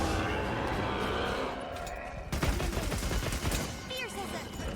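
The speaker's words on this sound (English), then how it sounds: "the Heavy Bowgun feels like its main focus is to be used in its ignition mode" Heavy Bowgun firing in Monster Hunter Wilds, a dense, loud stream of rapid shots that thickens after a steady opening rumble of gameplay noise.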